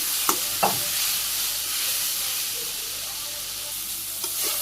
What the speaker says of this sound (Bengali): এখন আমি আর একটু কাঁচা পেঁয়াজ দিয়ে দিলাম তো আবার একটু ভাজি করে কাঁচা পেঁয়াজের সাথে